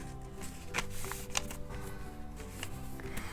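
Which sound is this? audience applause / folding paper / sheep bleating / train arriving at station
folding paper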